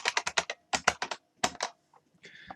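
Quick bursts of computer keyboard typing in a quiet room, several rapid runs of keystrokes separated by short pauses, close and fairly clear with no talking.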